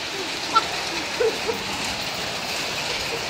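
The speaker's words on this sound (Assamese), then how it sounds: "আজি অকণমান বৰষুণ দিয়ে" Rain falls in a steady, even hiss that fills the whole moment, with a couple of faint taps rising briefly above the wash.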